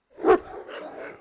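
A single sharp dog bark close by, followed by softer lower growly vocalizing from dogs that had been agitated by an animal, with no talk over it.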